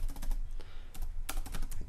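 Typing on a computer keyboard during a coding session, with quick clusters of close, crisp keystrokes in short bursts and brief pauses between them.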